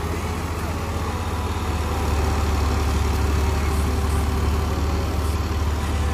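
A turbocharged 60 HP-class Massey Ferguson tractor engine runs steadily close by, a continuous low, heavy rumble with a droning hum that holds constant throughout.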